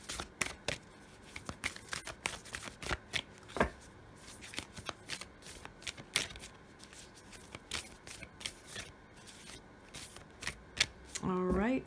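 Moonology oracle cards being shuffled in a steady run of crisp riffling slaps and flutters, close and fairly loud, with a brief tonal sound near the end and no talking.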